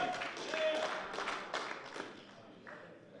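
Crowd at an esports tournament claps and cheers in a dense, broadband wash that peaks early and then thins out over about three seconds, with scattered individual claps near the end.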